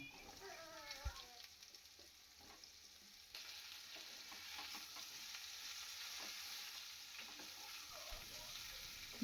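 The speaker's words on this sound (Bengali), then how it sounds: "আলুগুলো দিয়ে একটু নাড়াচাড়া করে নিয়ে দিয়ে দেব ঝিঙে" Potatoes and ridge gourd fry in oil in a pan, stirred for a Bengali rohu fish curry: a steady bed of sizzle, with scattered scrapes and clinks from the spoon, moderately loud throughout.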